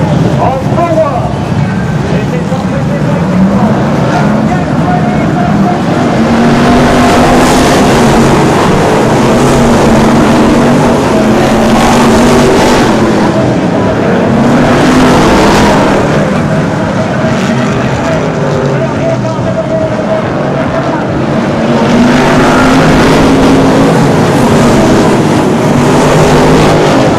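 BriSCA F1 stock cars racing in the World Final night meeting at Northampton, a loud continuous roar of engines rising and falling as the cars circle, with a commentator talking over it.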